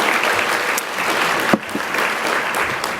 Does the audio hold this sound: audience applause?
yes